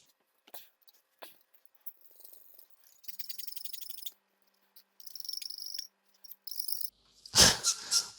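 A magic eraser rubbed on the case of an Atari ST Mega 4 makes high, chirping squeaks in short bursts and a few sustained runs, close and quiet apart from a louder rustle at the end.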